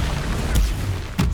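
A Confringo explosive spell cast in Hogwarts Legacy, two sharp fiery bursts about half a second apart over a loud, rumbling battle din.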